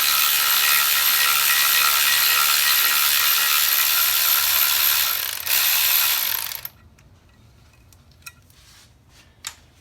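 Ratchet wrench loosening 8mm bolts from the valve cover of a Ford Focus engine, a loud, steady, rapid clicking that runs for several seconds, then stops, leaving a few faint clinks and taps.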